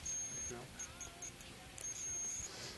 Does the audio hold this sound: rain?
no